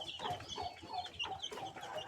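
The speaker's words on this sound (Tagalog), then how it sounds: "bagong sisiw na binili ni Mrs. doon sa palengke." Newly bought chicks from a market cheep and peep in quick, high, overlapping bursts, steady and close throughout with no talk.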